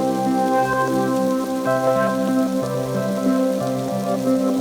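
Steady monsoon rain pours down without pause, a dense even hiss of drops on surfaces with a faint tonal hum underneath, filling the whole stretch at constant loudness.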